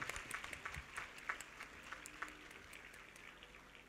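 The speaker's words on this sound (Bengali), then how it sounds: "সবাই জোরে হাততালি।" An audience at a women's event in Kolkata claps on cue, scattered sharp hand claps that start fairly busy and gradually thin and soften, heard quietly and at a distance.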